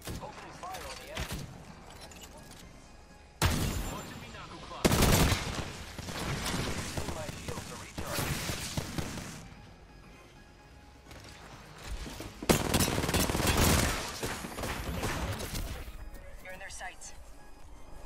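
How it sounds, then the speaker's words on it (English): Gunfire in the video game Apex Legends comes in several loud bursts of rapid shots with mechanical clatter between them, mixed with ongoing game noise and people talking. "Opening fire on the enemy."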